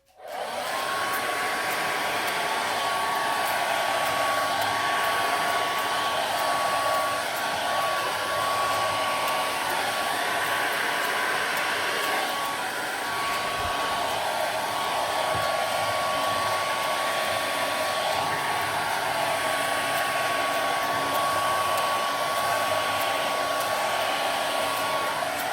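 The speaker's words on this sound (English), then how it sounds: "I'm finding there's certain ways I prefer to use the hairdryer than others," A hair dryer blows steadily over a liquid acrylic pour painting in shades of green, making a constant loud whir with a fixed high whine that runs for about 25 seconds with no voices and only small wobbles in level.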